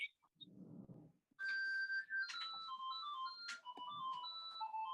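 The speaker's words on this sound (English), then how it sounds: "It's my phone ringing at the worst possible time." A phone ringtone goes off at a council on aging meeting, a bright electronic tune of gliding, whistly notes with sharp accents, loud and continuous after a short muffled thump and rustle at the start.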